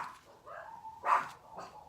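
A dog indoors gives a few short barks and whimpering yips, the loudest burst near the middle, moderately close with a quiet room behind.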